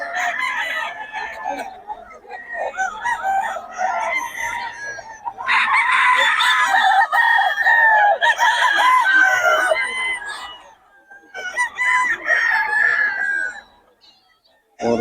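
Several fighting cocks and hens crow and cluck loudly and continuously, overlapping calls close by, with brief pauses near the end.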